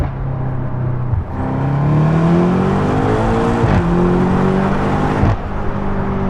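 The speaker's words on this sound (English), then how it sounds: "Downshift exhaust pop." A BMW M8 Competition Convertible runs with its sport exhaust mode enabled, the engine note loud and close as revs rise and drop through shifts, with a sharp burst near the end as it downshifts.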